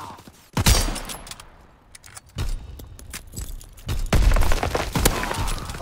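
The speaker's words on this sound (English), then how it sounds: "Sending mortar rounds." Heavy booming impacts and blasts from a WW2 video game mortar barrage roll through the mix, loud and repeated, with bursts of crackling gunfire between the explosions.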